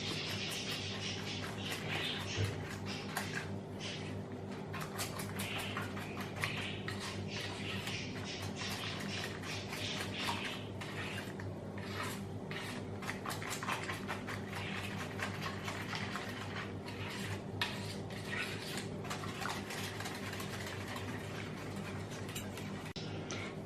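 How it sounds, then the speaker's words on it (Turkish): Rapid, steady clicking and tapping of a whisk beating a cornstarch or wheat-starch mixture for a pudding cake in a bowl, close and continuous for the whole stretch with no talking. "Şimdi bunları çırpıyorum arkadaşlar"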